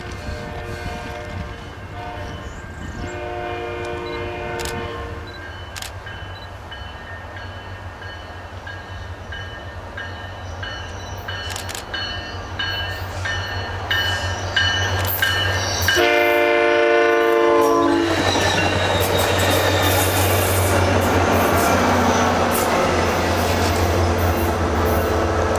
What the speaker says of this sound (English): I end up in Kissimmee in time for 2 SunRail trains